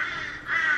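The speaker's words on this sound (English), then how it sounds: "The crows are going crazy" Crows caw nearby, two harsh calls back to back in a quick burst with a brief dip between them.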